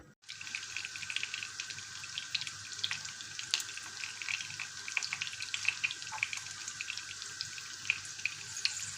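Carrot patties coated in semolina fry in a pan with a steady, bright sizzle and crackle that runs the whole time, close by and even, with no talking.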